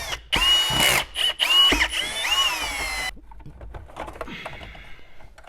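A power drill backs out Phillips screws from a Subaru Impreza radio in several close, whining bursts that rise and fall in pitch, followed by quieter clicks and handling sounds.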